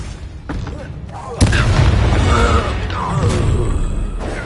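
A Confringo fire spell explodes in the Hogwarts Legacy video game, a sudden loud boom followed by a rumbling, crackling burst amid ongoing battle noise, with a voice talking over the action.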